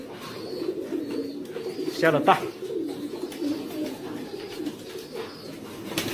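Racing pigeons in a loft coo in low, steady murmurs while a person talks briefly over them; a short, sharper call briefly rises above the background.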